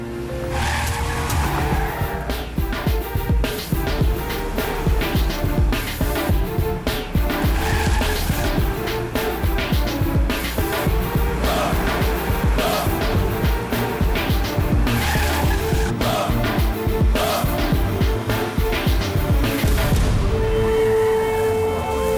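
A car speeds away with its tires squealing and skidding, the loud engine roaring continuously for an extended stretch under a dramatic soundtrack.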